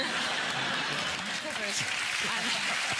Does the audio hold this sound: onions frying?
no